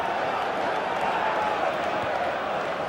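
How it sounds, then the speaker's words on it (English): Stadium crowd noise in a FIFA 15 match between QPR and Arsenal, a steady, dense roar of cheering fans holding at an even level throughout. "the crowd really enjoying it"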